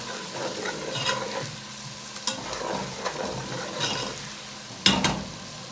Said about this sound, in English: Now I'm stirring it in.